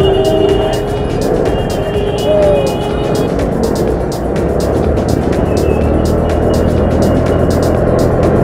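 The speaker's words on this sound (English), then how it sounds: "This is my scooter, which I use for daily commuting" A scooter rides through Bangalore city traffic, with continuous engine and road noise and wind rumble picked up by an internal camera mic. A brief horn-like tone and the sound of passing vehicles come through the steady drone.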